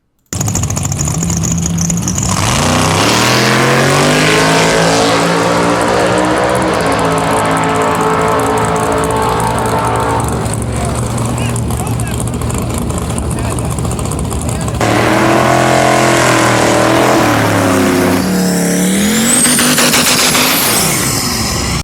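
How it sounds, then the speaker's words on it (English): Small-block V8 drag cars on nitrous, including a 414 cubic inch engine, roar loudly at an eighth-mile heads-up race, with rising then falling engine tones, a brief lull and a second surge. An announcer speaks over it. "we got Eric in what I believe to be a 414 cubic inch small block on spray"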